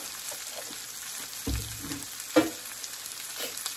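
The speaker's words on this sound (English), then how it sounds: "Just like you're letting it fry up." Corn fries quietly in a pan for maque choux, a soft steady sizzle with a couple of brief clatters from stirring, faint and close, with no voices.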